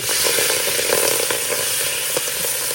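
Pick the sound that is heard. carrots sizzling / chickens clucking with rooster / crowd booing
carrots sizzling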